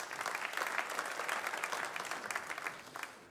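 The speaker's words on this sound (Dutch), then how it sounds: "nog een applaus" Audience applause at a municipal election debate in Burdaard, a dense patter of many hands clapping, fairly faint and distant, swelling slightly then tapering toward the end.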